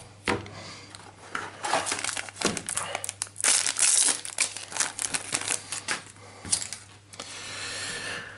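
Weiss Schwarz Fate/Stay Night trading cards spill out of a booster pack, giving a close burst of crinkling, slapping card rustles and small clatters that rises and falls in uneven clusters.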